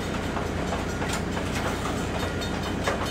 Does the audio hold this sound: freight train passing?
yes